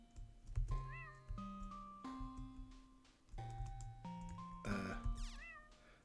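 A video game cat meows several times in a row, clear tonal cries rising and falling over soft background game tones and faint clicks, with no talking.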